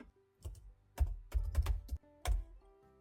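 Keys are pressed on a computer keyboard in a few quick clusters of clicks with short pauses between them, close and clear in an otherwise quiet room.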